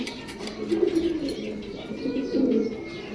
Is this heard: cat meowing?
no